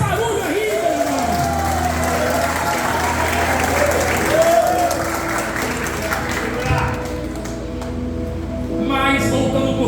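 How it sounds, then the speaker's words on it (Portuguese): A church congregation at a Sunday evening service applauds in praise, with steady clapping mixed with cheers, whoops and shouting voices, a tonal hum running underneath and scattered exclamations throughout. "aplaude o Senhor, faz barulho aí, meu irmão"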